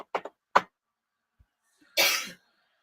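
A single sharp sneeze bursts out close and fairly loud, preceded by a few short breathy sounds, amid a casual gathering of friends watching wrestling.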